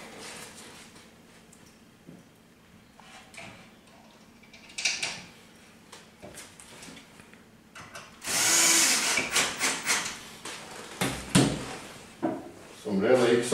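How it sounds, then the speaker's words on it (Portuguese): A power drill drives screws into a shelf bracket for an invisible floating shelf, with short loud whirring bursts after quieter handling clatter and someone talking in Portuguese between them. "Agora eu vou parafusar ali"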